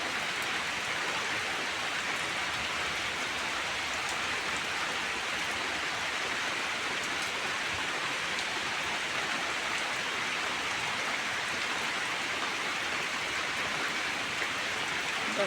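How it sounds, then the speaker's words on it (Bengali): Steady rain falls outdoors near coconut trees, a continuous even hiss of drops on surfaces that stays constant and moderately loud, with no voices. "বৃষ্টি পড়ছে।"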